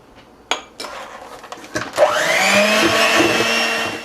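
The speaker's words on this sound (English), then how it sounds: "I'm going to go ahead and whisk this until it's nice and combined" A no-bake cake mixture is whisked until combined: a few knocks and clatters, then a motorized whir rises and holds steady and loud to the end.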